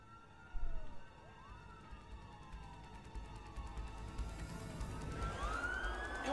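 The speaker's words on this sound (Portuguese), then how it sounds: "tá ouvindo a sirene" Several police sirens in the video game A Way Out wail and sweep up and down in pitch, faint at first and growing louder as they close in over a low rumbling background.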